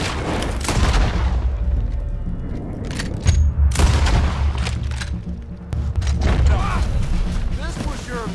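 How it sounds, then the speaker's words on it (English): Cannon blasts and gunfire in the video game Red Dead Redemption 2 come as heavy booms and sharp shots scattered through a battle, loud and close, with characters shouting over the fighting. "We need to take out that cannon!"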